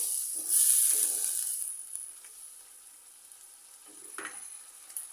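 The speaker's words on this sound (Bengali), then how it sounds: "মশলাগুলোকে আমি ভালোভাবে তিন চার মিনিট কষাই নিব" Spices sautéing in a pan for a hilsa fish and eggplant curry give a steady sizzle that swells early, then thins to a softer hiss with occasional stirring scrapes, close by with no talking.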